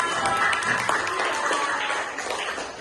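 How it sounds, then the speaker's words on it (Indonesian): Schoolchildren in an elementary classroom clap for a classmate, a short burst of scattered hand claps at moderate volume, tapering slightly toward the end. "tepuk tangan untuk Alka."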